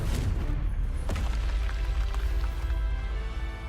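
The Confringo blasting spell explodes in the Hogwarts Legacy video game, a deep booming rumble with crackling debris that rolls on and slowly settles.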